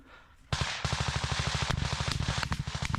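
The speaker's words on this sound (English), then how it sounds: "We now hear what appears to be a Ukrainian machine gunner laying down the fire." Sustained automatic gunfire from a Ukrainian machine gunner in the war, a rapid regular stream of loud shots starting abruptly after a brief quiet moment and continuing without pause.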